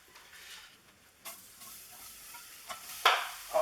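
A heap of onions tipped into a hot pan for caramelised onion chutney, giving a soft sizzle and hiss with stirring scrapes that swell into a louder burst of frying near the end.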